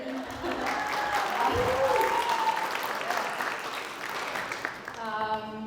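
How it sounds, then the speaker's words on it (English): Audience round of applause at a school alumni night, a dense wash of clapping that stays steady through most of the stretch and fades near the end as a voice and a tonal sound come in. "Round of applause."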